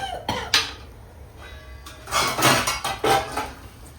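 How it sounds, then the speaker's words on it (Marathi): A metal lid is set on a cooking pot of pithle, with several sharp clanks and clinks of cookware heard close up amid kitchen handling noise. "हे झाकण ठेवलं"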